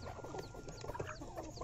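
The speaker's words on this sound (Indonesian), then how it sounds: "Ya, ayam-ayam." Chickens clucking nearby at a farm, soft repeated clucks and chatter spread through the moment, fairly faint and without any voices.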